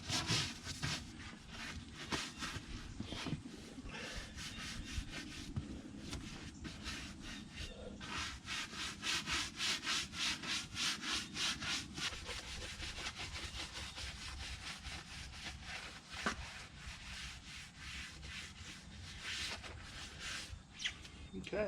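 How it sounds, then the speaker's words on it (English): A stiff brush scrubs a surface during a pressure-washer cleanup, giving rapid rhythmic rasping strokes, soft and close, continuing steadily without pause. "then go give it another scrubbing"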